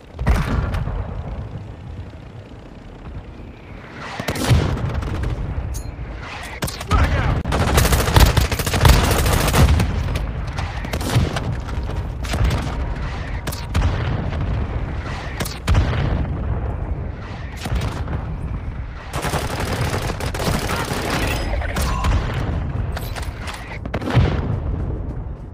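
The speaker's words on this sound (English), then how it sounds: "Hostile mortar strike incoming." Mortar strike explosions and gunfire in Warzone Mobile, played on a Realme GT Neo 3T: dense, loud volleys of shots and booming blasts roll on continuously, with brief lulls between heavy bursts.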